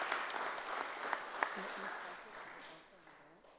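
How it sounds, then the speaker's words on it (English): An audience at the opening of a photography exhibit claps, the applause fairly faint and thinning out over a few seconds while a voice talks softly underneath. "please give them and yourselves a round of applause"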